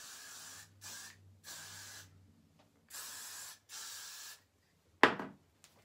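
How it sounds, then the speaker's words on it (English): Hair spray hisses from an aerosol can in a series of close bursts, several short sprays separated by pauses, followed by a sharp clack. "Let me spray some of this in there."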